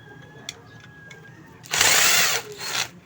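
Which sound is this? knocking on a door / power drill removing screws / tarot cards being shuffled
power drill removing screws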